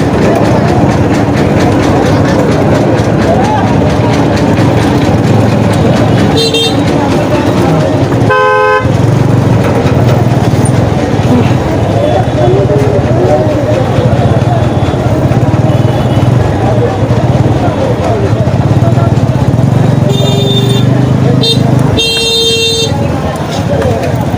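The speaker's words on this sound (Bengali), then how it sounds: "ঈদের পরের দিন কতটা পরিমাণে যানজট হয়েছে তা আপনারা বুঝতে পারতেছেন" Evening traffic jam on a road the day after Eid, heard from a bicycle: a constant dense roar of idling and crawling vehicles with several distinct horn toots and longer honks, one around the middle and a cluster near the end.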